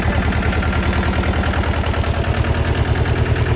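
A tractor engine runs close by with a loud, steady, low chugging pulse that never lets up, with no one speaking.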